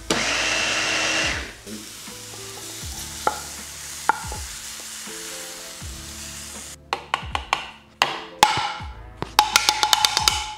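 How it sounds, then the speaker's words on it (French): A small blender whirs through a veggie burger mixture of mushrooms, garlic and sun-dried tomatoes in loud repeated bursts, starting with a long run and then giving way to short choppy pulses with clattering knocks. "on va prendre notre petit mixeur"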